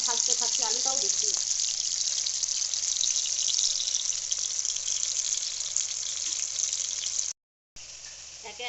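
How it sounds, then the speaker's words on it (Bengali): Onion and potato fry in a pan with a constant bright hiss, steady and close, broken by a brief pause near the end. "এবার আমি পেঁয়াজের সঙ্গে সঙ্গে আলুটাও ভাজতে থাকছি, আলুটাও দিচ্ছি।"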